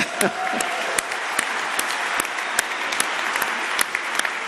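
Audience applause at a SUNY Empire State College commencement ceremony in 2017: broad, steady crowd clapping with a few sharper individual claps standing out, continuous throughout.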